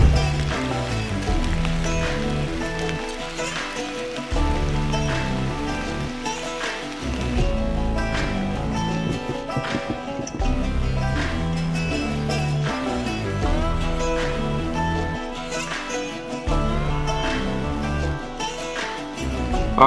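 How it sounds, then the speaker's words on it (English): Steady heavy rain falls through the Pennsylvania woods during a public-land deer hunt, a dense, continuous patter that stays loud and even throughout, with no voices. "It is once again raining pretty dang good"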